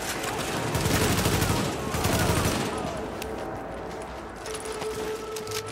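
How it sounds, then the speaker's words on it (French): Machine gun fire in the video game The Division, rapid loud bursts of automatic shots in two dense volleys, followed by quieter trailing clatter and ambient game noise. "Ah, j'ai une batteuse."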